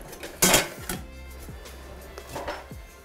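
A pot lid is set over bulgur with a sharp metallic clatter, followed by lighter clinks and a ringing scrape as it settles, close by in a quiet kitchen.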